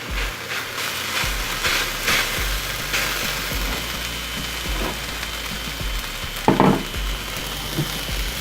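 Onions cooking in a dry pan without oil, a soft steady sizzle with occasional stirring scrapes and a couple of louder clatters, close and continuous with no talking.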